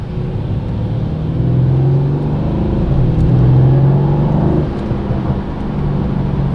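Mercedes-AMG C63 S Coupe (2020) engine in Sport Plus mode, driven through a city at night in wet conditions, giving a steady loud low rumble that swells twice as the revs rise, heard from inside the car with no talking.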